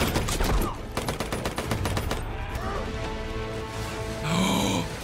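Rapid machine-gun fire from a Hacksaw Ridge battle scene, a loud sustained volley of shots with grunting voices and scattered battlefield noise mixed in.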